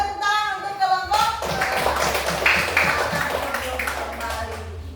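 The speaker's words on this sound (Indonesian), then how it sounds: "Balik tepuk tangan untuk kelompok" Schoolchildren in a classroom clap together in a fairly loud, dense burst lasting several seconds, with a voice briefly audible before the clapping starts.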